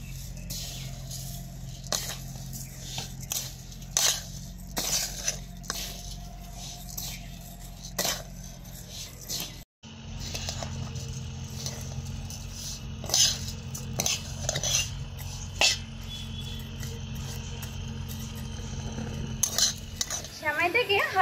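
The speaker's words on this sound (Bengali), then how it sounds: "এবার আমি এই সেমাইটাকেও হালকা একটু ভেজে নেব।" Semai vermicelli lightly frying in a pan for zarda semai: a soft background sizzle under repeated scraping and clinking stirs of a utensil against the pan, with a short break partway through.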